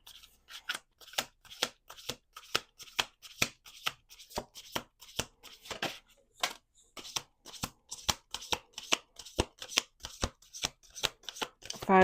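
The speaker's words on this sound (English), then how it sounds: "2 more shuffles." Tarot cards are shuffled again and again in quick, crisp riffling bursts with a steady rhythm, close up, with no talking.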